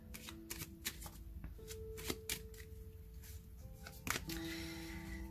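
Oracle cards shuffled by hand for a reading, soft papery riffles and slaps in irregular bursts, close but quiet, no talk.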